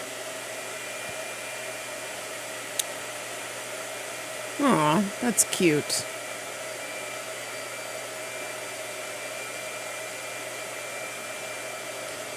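A hair dryer runs steadily at room level from start to finish, a constant airy whir with a brief louder burst of a voice speaking over it midway.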